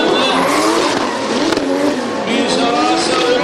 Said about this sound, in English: BMW V10 M5 engine against the 2JZ.